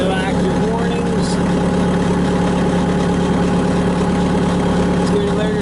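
A 2007 Bobcat S300 skid steer loader with a Kubota engine idles steadily at close range, a continuous low, even rumble throughout with faint intermittent tonal whines over it.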